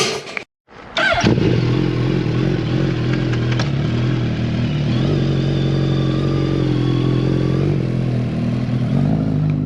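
A 2022 Hayabusa motorcycle fitted with an M4 exhaust fires up outdoors after a brief silence, then settles into a loud, steady, rumbling idle close by.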